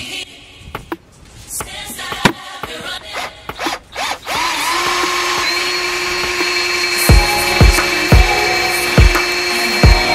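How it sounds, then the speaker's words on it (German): Short mechanical clicks and taps give way to a power drill whining steadily close by, with a few sharp knocks as it bites through metal, drilling holes for checker plate on a Land Rover Defender. "mit einem Körner anmarkern und dann werden wir das bohren"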